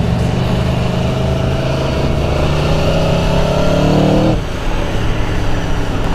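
A 2017 Aprilia Tuono V4 1100 naked motorcycle engine revs loudly and climbs in pitch while riding, then drops off abruptly before settling into a lower, steady drone.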